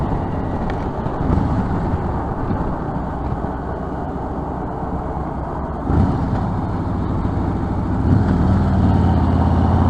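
A rock truck rumbles steadily ahead in traffic, heard from a motorcycle riding behind it, with a continuous low engine and road drone that swells slightly near the end.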